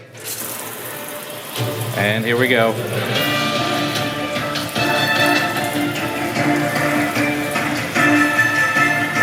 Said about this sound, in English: let's just see how it does with a little bit of water from the sink